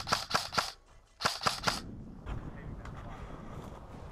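Airsoft guns fire during a King of the Hill game: two quick bursts of three sharp, close pops each, followed by fainter scattered distant shots under outdoor noise and a few calls.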